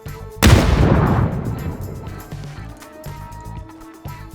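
A single loud sniper rifle gunshot in PUBG cracks, then booms and echoes away slowly over a background of game noise and faint thuds.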